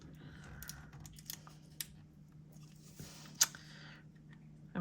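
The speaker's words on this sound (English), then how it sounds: "So what I'm doing is I'm just cutting the washi tape here." Scissors snipping Deco washi tape for a Christmas tree journal page, a few light, sharp clicks and one crisp snip against a steady low hum, with no talking.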